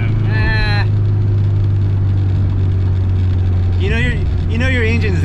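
A 1992 Honda Civic EG engine runs at a steady idle with a low continuous hum throughout, while people talk over it in short bursts.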